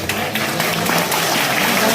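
A crowd applauds at a school's annual exam results prize ceremony, with a thick, continuous wash of clapping close by and loud throughout.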